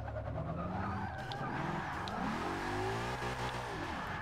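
A Ford Mustang with a wheelie build in Forza 6, its engine revving and wavering in pitch as the tires skid and squeal, loud and close with no talk.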